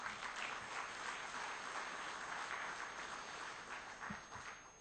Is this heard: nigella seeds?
no